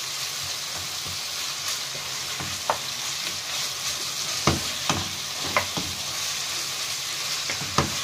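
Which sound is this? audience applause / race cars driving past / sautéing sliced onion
sautéing sliced onion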